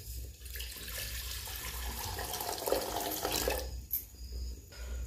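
Water pours steadily into a cooking pot set on a traditional wood stove, a continuous splashing rush that fills the clip, briefly easing near the end.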